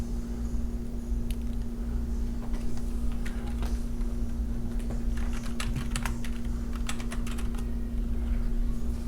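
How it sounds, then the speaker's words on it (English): Computer keyboard keys pressed in a string of quick clicks while entering the Control C shortcut at a Linux Mint Debian Edition command line, close and clear over a steady low electrical hum, with no talking. "I'm going to hit Control C on the keyboard"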